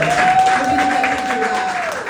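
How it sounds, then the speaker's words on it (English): An audience applauds a poet after a performance at a poetry showcase in New York, the clapping steady and full throughout, with a thin sustained whistle-like tone running over it. "Can you just give Richie a round of applause for his performance?"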